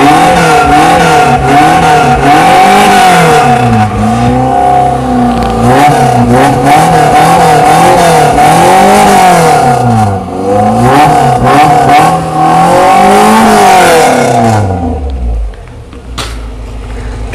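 A modified Suzuki Katana 4x4 pickup with an aftermarket exhaust revs hard, its engine rising and falling in repeated loud throttle blips before dropping to a lower idle near the end.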